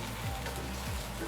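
Oysters pan frying in butter on a gas stove give off a steady, dense sizzle that stays even throughout a brief moment, close by and without speech.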